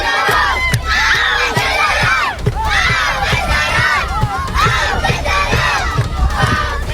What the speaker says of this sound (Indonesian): Anak-anak sekolah Palestina berteriak meminta pagar kawat berduri Israel dibuka.